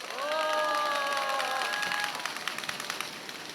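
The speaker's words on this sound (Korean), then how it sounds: "다시 한번 수상하신 분들께 뜨거운 축하의 박수 부탁드립니다." An audience at a Chungbuk people's rally applauds and cheers for award winners, a broad, moderately faint wash of clapping and crowd noise, with a sustained tonal squeal over the first two seconds.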